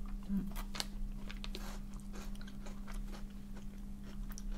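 Close, crisp bites and chewing on a dark-chocolate-coated Japanese biscuit, a few sharp crunches followed by steady quieter mastication.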